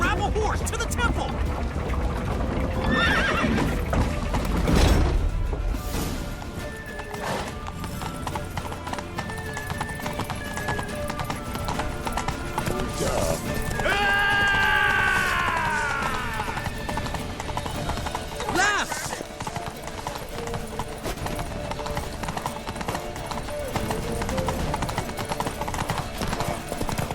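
Galloping horses in The Witcher 3: Wild Hunt pound out rapid hoofbeats as riders flee toward a temple. The clatter runs continuously under shouted voices and game music, and a horse whinnies partway through.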